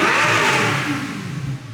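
A Lamborghini Gallardo with a newly modified exhaust revs loudly and close by, a rough sustained roar that eases slightly and wavers with small throttle blips near the end.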